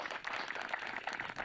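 Applause from an audience thanking agricultural experts at a Hindi farmers' question forum on summer sugarcane farming, a steady dense clatter of many hands held at an even level for the whole stretch, with no voices over it.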